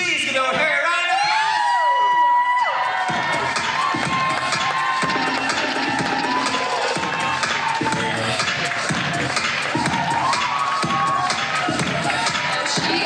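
Crowd cheering, whooping and clapping for a winner at the Calgary Kids Fashion Week 2022 show, loud and sustained after an announcer's voice, with shouts rising over the continuous noise.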